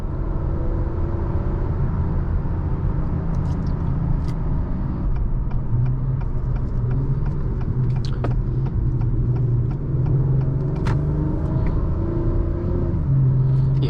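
2023 Acura TLX Type S on the move, with a steady low engine rumble and road noise filling the cabin, faint ticks and clicks over a constant drone and no talk.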